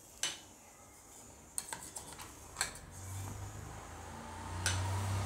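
Garlic chutney is spooned out of a mixer jar into a serving dish, giving a few sharp metallic clinks and scrapes of the spoon against the containers, followed by a soft, steady background hum.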